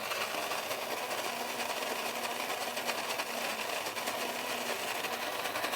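A Jura-Capresso coffee grinder grinds coffee beans with a steady, high, buzzing whir, constant and fairly faint throughout with no talk.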